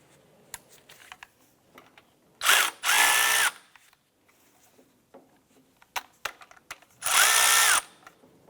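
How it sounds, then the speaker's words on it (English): A ratcheting tool loosens the alternator belt on a 2001–2005 Honda Civic, giving two loud, sustained mechanical bursts separated by scattered clicks and light taps. "We're going to loosen the belt a little bit."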